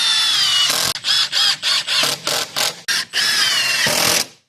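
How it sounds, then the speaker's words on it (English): Power drill driving screws into wooden braces of a freestyle motocross ramp, loud and close, in a run of short whining bursts with brief pauses between, ending in one long sustained drive. "we're just going to pre-drill, screw all this stuff in place"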